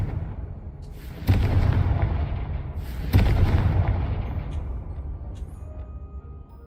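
Two heavy booming blasts from the Confringo blasting spell in Hogwarts Legacy go off a couple of seconds apart, each a loud explosion with a rumbling tail that slowly fades.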